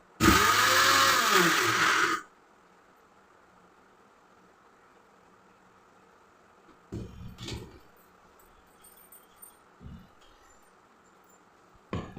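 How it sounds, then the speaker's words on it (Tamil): A mixer grinder grinding rice flakes in its jar whirs loudly for about two seconds and stops, followed by quiet with a few faint clatters and knocks. "அவளை போய் இதே ஜாரில் அடிச்சுக்கிறதெல்லாம்"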